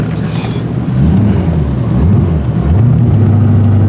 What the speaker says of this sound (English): This is what the inside of a 1989 Corvette that runs like shit because it's got a really dead battery is like.